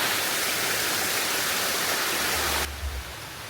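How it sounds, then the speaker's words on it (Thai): A continuous, dense roar of falling water fills the clip, then abruptly drops to a quieter rush near the end. "อ๋อ ตรงนั้นมีน้ำตก"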